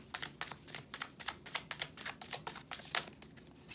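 A deck of tarot cards is shuffled up close, giving a quick run of rhythmic riffling flutters and soft slaps that continue evenly throughout with no voices.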